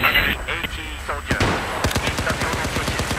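Rapid automatic weapon fire from a player in a first-person shooter on the Siege of Shanghai map, a fast steady burst of close, sharp shots following a few separate single reports.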